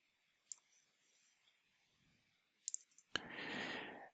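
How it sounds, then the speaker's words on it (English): A single mouse click on a publish button, sharp and close, with a few faint taps before it and a quiet hiss of room noise just after. "I'll just click on publish."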